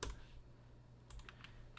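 Fast keystrokes on a computer keyboard, heard as a short burst of light clicks at the start and a few more taps later over a low steady hum, with no one talking.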